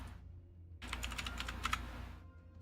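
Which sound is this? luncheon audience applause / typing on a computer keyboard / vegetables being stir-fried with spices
typing on a computer keyboard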